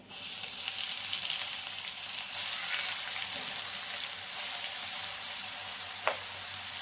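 Onion paste sizzles in a hot pan, a steady hissing fry at moderate level that swells slightly partway through, with one sharp clink near the end and no voices.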